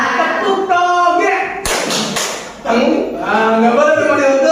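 Children clap the 'tepuk toge' chant in a classroom, a short sharp group clap breaking in once or twice between a teacher's spoken instructions.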